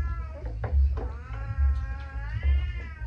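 Cat meowing repeatedly in an indoor home setting around feeding time, several drawn-out harmonic meows in a row, close and fairly loud.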